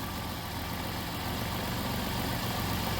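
A car engine idles just after being started following brake and suspension work, giving a steady, dense rumble that stays constant throughout with no voices.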